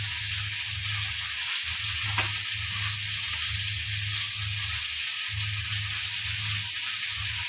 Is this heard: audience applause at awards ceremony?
no